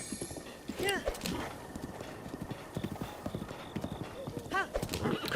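Horse hooves clip-clop in Zelda: Breath of the Wild, a steady walking rhythm of close, crisp hoof strikes with a whinny or snort mixed in over game sounds.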